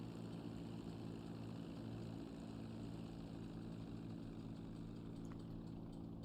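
Propeller airplane engine in GTA Online droning steadily and loudly throughout as the plane fails, a constant low hum with no voices.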